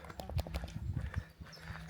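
Horses walk near a public footpath by a mill in the English countryside, hooves clip-clopping in a steady uneven rhythm, faint and somewhat distant over outdoor ambience.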